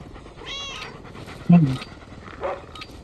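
A cat meows a few times in Call of Duty: Mobile, one sharp loud call in the middle between softer ones, with light talking and background noise around it.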